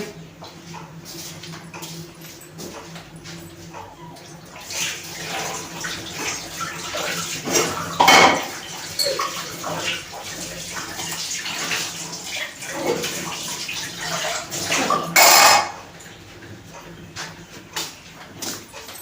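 Running water splashes and clatters intermittently as dishes are washed, with louder gushes and knocks, and a dog whimpering in the background.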